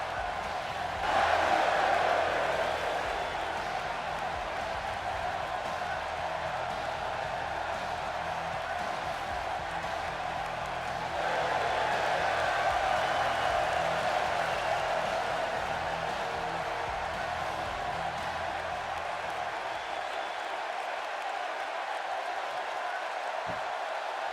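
Arena crowd in the wrestling video game WWE 2K16: a steady, broad murmur and roar of a large audience that swells slightly at moments and then drops away near the end.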